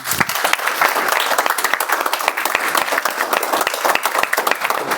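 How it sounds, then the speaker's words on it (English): A crowd applauds steadily throughout, dense clapping from many hands filling the room at a fairly loud, even level. "He deserves a huge round of applause."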